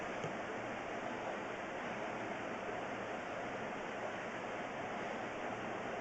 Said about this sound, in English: Okay, here comes the toilet flush.